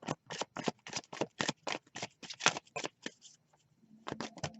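A deck of cards for a reading is riffled and shuffled close up in a rapid run of crisp flutters, a short pause, then a few more quick riffles.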